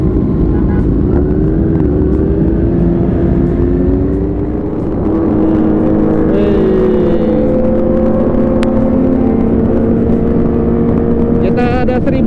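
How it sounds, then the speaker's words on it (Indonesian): A huge group ride of over a thousand motorcycles at the Merdeka Run 2020 rumbles loudly and continuously, with engines droning and revving up close while people shout and talk over the noise. "Kita ada 1000 motor lebih nih guys."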